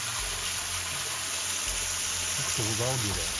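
Water rushes in a continuous, loud wash at the base of a waterfall among off-trail arches in Big South Fork, with someone speaking briefly over the roar near the end.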